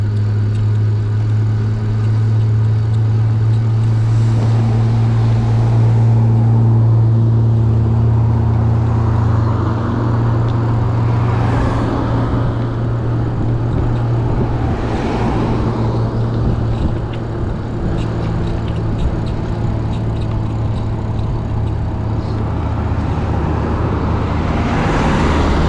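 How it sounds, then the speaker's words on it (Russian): An electric bicycle motor climbs a very steep hill, a continuous low whirring drone with a steady hum that runs unbroken throughout, mixed with faint wind and road noise and no speech. "Тут мотор даже набирает скорость."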